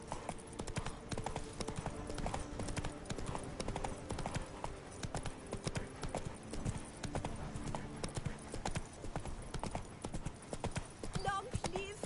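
A horse gallops in The Witcher 3: Wild Hunt on PS5, a rapid, driving drum of hooves that runs the whole time, close and steady, with a voice talking over it.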